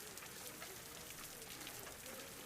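Rain falling steadily, a soft, even hiss of drops pattering on a surface, faint and continuous throughout with no voices.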